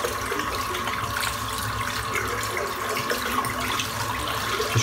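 Tap water runs steadily into a sink while soap is rinsed out of a 30mm boar-bristle shaving brush, a continuous close splashing hiss with no voices.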